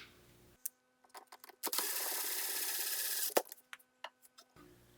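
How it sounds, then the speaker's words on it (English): Screw being driven to set the wing of an old work electrical box, a sustained mechanical whirr of about a second and a half amid scattered clicks and taps, close by. "I'll screw this in."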